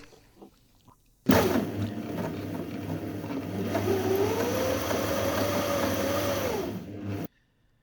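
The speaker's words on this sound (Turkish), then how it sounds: "Şimdi motoru bir çalıştırma denemesi yapacağım" A motor on a homemade budget CNC machine starts abruptly and runs steadily for about six seconds with a droning hum and a rising whine, then cuts off sharply.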